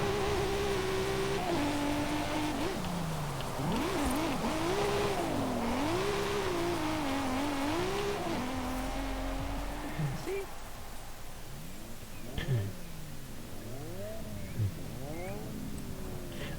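Ford Lightning Hoonigan truck tuned like a single-turbo setup, driven in Forza Horizon 5 in changing weather: engine note rises and falls in repeated revving sweeps with a whining tone, at moderate level and without voices.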